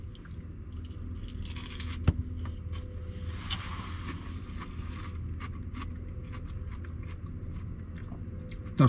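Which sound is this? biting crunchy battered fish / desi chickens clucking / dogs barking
biting crunchy battered fish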